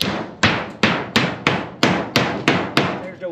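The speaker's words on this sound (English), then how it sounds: "I'm going to start this thing with my hammer and then we'll drive it in with the other thing" Nine sharp hammer blows strike a nail into sheet tin, evenly spaced and loud, each with a bright metallic ring that decays before the next hit; no talking.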